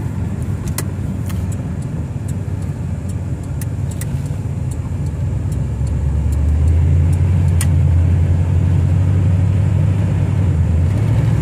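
A 1979 Buick Regal V8 coupe's 301 V8 engine runs steadily during a test drive, a continuous low rumble from inside the car that grows louder and deeper partway through as the engine works harder, with no talking.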